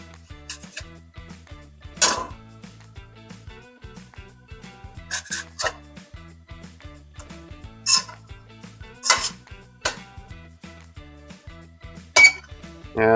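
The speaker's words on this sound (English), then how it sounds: "we're going to go ahead and flip these over" Chili turkey patties flipped in a pan: sharp metallic clinks and scrapes of a utensil against cookware, several distinct hits spaced irregularly over a low steady background, close and fairly loud.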